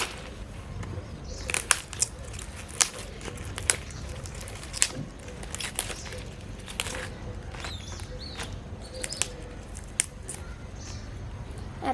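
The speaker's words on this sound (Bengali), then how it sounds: "এখন আমি ফুলকপিটা কেটে নেব।" Cauliflower is cut into small pieces for cauliflower paratha in a village kitchen, giving close, irregular crisp snaps and crunchy cuts scattered through a quiet background.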